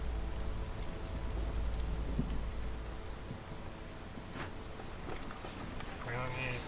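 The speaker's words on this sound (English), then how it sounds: "Here comes another storm." Rainfall from a storm in the game Against the Storm, a steady hiss of rain on surfaces with a low rumble, running continuously under a speaking voice and some interface sounds.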